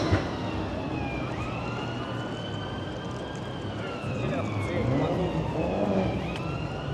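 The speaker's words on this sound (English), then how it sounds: "It's another ambulance, I think." A wailing ambulance siren rises and falls in the distance over busy Saturday-night traffic noise in Blackpool, with people talking nearby.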